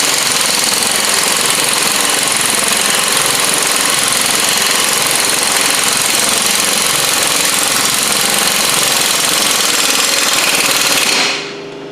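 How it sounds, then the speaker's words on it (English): An impact wrench hammers continuously at the sway bar bolts on a Jeep WJ while the stock sway bar is removed, a loud, close, rattling burst lasting about eleven seconds before cutting off. "Get my impact going the right direction."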